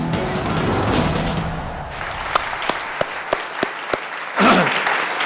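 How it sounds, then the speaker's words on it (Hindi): Studio audience applause at a cricket celebration show, dense clapping over the first two seconds, then thinning to scattered individual claps before a brief musical swell near the end. "बजाओ तालियां बड़ा"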